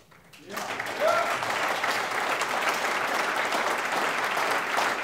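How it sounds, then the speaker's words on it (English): A conference audience breaks into applause after a brief quiet start, the clapping swelling within a second and holding steady and dense, with a voice briefly heard near the beginning. "please offer a preemptive round of applause for whoever"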